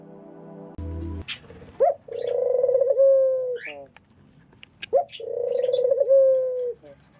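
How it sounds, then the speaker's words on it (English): Doves coo in two long, soft, rounded calls a few seconds apart, each preceded by short clicks and ending in a gentle lowering note, heard close and clear against a quiet background. "this is a short video on doves, and this is how they coo."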